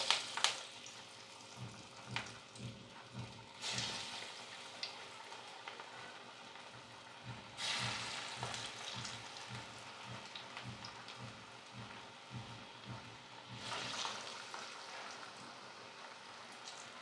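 Vegetable vadai dough balls sizzle and crackle steadily in hot oil, a continuous dense frying hiss with periodic louder bursts as pieces settle or are stirred, close by and without talk.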